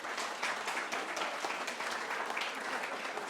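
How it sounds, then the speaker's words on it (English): Audience applause at a community gathering: steady, dense clapping from many hands filling the whole stretch at an even, moderately loud level, with no voices over it. "Could we give them a round of applause for their effort?"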